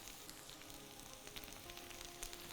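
Okra fries in oil with a faint, continuous sizzle and small popping crackles throughout, and no voices.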